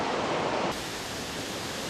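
Galovački waterfall at Plitvice Lakes, Croatia, a steady broadband rush of falling water that drops slightly in level partway through and continues evenly, close and alone.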